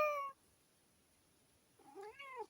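A cat in a garden meows twice, a short, clear call at the start and a longer, wavering meow near the end, with quiet between them.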